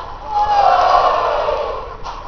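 Women in a TV studio audience cheer in a deep, rowdy roar imitating men, a loud crowd shout holding for about two seconds and fading slightly at the end.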